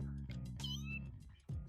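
A cat in the video game No More Heroes meows close and clear, giving a couple of drawn-out, wavering mews with a short pitched cry at the end and no talk over them.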